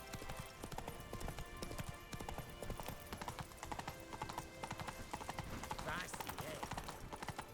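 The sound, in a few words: hoofbeats of the horse Roach in The Witcher 3 video game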